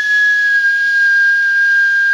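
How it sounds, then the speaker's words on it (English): One steady, high whistled note held at an unchanging pitch for about two seconds, loud and close. "You can check by whistling"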